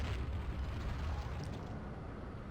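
A grenade goes off in the video game Fire Warrior as a dull, low rumbling blast that fades into a steady, quiet roar without a sharp crack.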